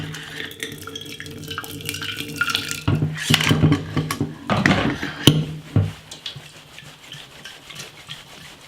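Hot water poured into a coffee maker, with a quiet trickle at first and then louder splashing, gurgling bursts in the middle before it tails off to a soft drip.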